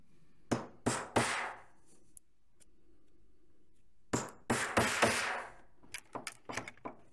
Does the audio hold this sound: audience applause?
no